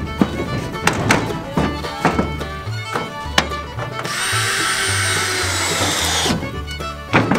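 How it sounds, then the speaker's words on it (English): A power drill drives screws into the metal roofing of a pole barn: short bursts of whirring drill and knocking taps on the sheet metal, then one sustained high-pitched drilling run lasting a couple of seconds, close and loud. "then we'll screw down, and it should hold pretty well."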